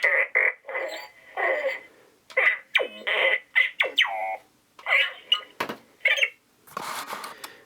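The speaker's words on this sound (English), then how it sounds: "But you get classic R2 sounds." Chirpy robotic beeps and warbling electronic whistles in quick, playful bursts from a Star Wars R2-style astromech droid toy chattering up close.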